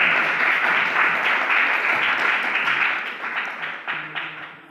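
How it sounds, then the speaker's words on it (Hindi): An audience at a recognition ceremony at the Constitution Club in New Delhi claps loudly to welcome guests, a steady, dense burst of applause that gradually thins and tapers off toward the end. "आपसे गुजारिश करता हूं कि जोर से ताली बजाकर इनका स्वागत करें"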